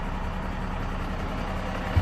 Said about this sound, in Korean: 엔진 소리가 조금 더 조용해졌죠?